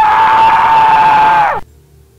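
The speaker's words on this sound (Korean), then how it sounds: "저 멀리서 없어졌던 후임의 비명소리가 들렸습니다." A long, sustained scream with a steady high pitch rings out loudly for about a second and a half, then abruptly cuts off into near silence; a horror radio-drama effect of a lost soldier crying out in the distance.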